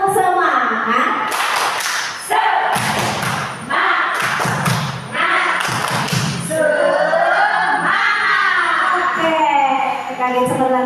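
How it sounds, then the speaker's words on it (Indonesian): A group of early-childhood teachers beating out a rhythmic spirit clap in bursts of patterned claps and thumps, near and loud, with voices chanting and talking between the bursts. "Tepuk semangat."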